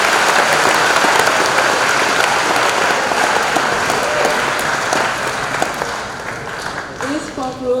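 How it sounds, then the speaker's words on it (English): Sustained applause from a lecture audience at the close of a Q&A session, dense and steady clapping filling the room before fading near the end, where a voice begins to speak. "Let's give another round of applause to Dr. Kelley and to our 5 students"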